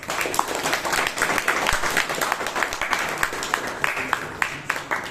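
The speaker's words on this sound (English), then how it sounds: "let's welcome our guests with a warm round of applause" A Toastmasters meeting audience in Bangalore welcomes guests with a warm round of applause, a dense, steady wash of many hands clapping together that stays loud and even throughout, with no pauses.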